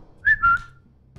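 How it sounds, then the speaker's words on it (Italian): A two-note whistle sound effect from the video game Marvel Snap: two short, clear, bright tones in quick succession, the second slightly longer, heard alone and up close over a quiet low background. "Fischietto."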